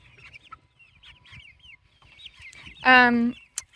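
Chickens cluck softly and intermittently nearby, then one lets out a louder, drawn-out squawk, with low murmuring in the background.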